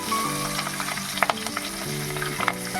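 Nigella seeds and green chillies sizzle and crackle in hot oil, a steady near fry with sharper pops and a stir or two, with a background tone humming underneath.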